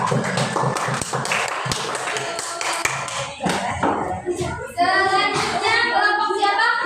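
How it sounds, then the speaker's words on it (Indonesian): A classroom of students claps for a group of classmates, with a burst of quick, close hand claps early that thins out as children's voices take over toward the end. "Berikan tepuk tangan untuk kelompok 2."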